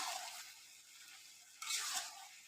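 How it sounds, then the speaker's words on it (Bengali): Goat meat curry cooks and sizzles in a pan as a soft, close hiss with faint stirring scrapes, growing briefly louder near the end. "এদিকে মাংস রান্না হচ্ছে"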